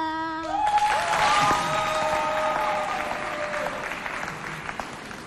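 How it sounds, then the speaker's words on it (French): A crowd applauds a female singer at a youth holiday event right after she finishes a song, with sustained clapping that swells quickly and then slowly fades, as the last sung note dies away at the start. "On l'applaudit bien fort."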